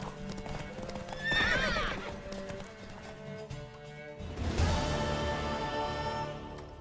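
In The Witcher 3: Wild Hunt, a horse whinnies loudly, then hooves clip-clop in a quick rhythm before a second neigh rises near the end.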